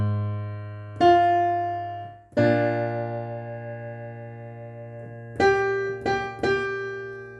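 Piano plays a section of a song: a few struck notes and chords with a held low note underneath, each ringing and fading before the next, clear and close with no talking.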